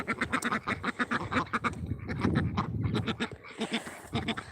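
Duck quacking in a run of loud, close, rapid nasal calls that repeat steadily through the whole stretch, with no other sounds competing.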